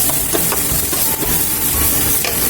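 Onions are added to hot oil for a ginataang fish dish and sizzle loudly and steadily, with a dense hiss and a few sharper crackles and stirring scrapes throughout.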